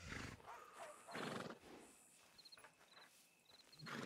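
A video game horse whinnies loudly in bursts, with hooves clip-clopping in between and a few faint high chimes.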